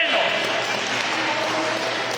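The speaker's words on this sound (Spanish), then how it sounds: "denle un aplauso" A church congregation applauds in a steady, dense wash of clapping that fills the whole moment at fairly close range, with a voice faintly over it.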